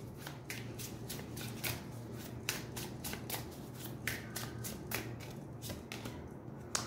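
A deck of cards is shuffled for a card reading, giving a run of crisp riffling bursts that repeat at a quick, uneven rhythm, close and fairly quiet with no voices.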